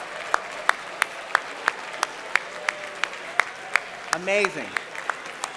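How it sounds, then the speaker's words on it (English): Sparse, evenly spaced claps ring out in a large awards-show room as finalists and their teams are recognised, fairly faint, with a brief spoken exclamation near the end. "and your teams, big round of applause."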